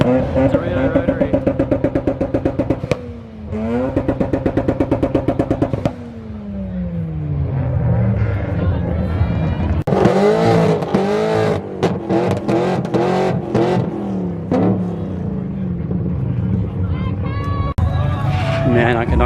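A rotary-engined car revving loudly at a busy Brisbane car meet, with a sputtering idle giving way to repeated high, rising and falling revs that dominate the scene while people talk nearby.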